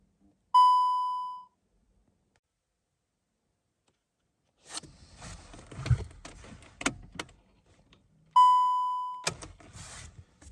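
VW Golf Mk7 dashboard giving a clear electronic beep as the ignition comes on, then clicks and rustling, then a second identical beep, close with no talk.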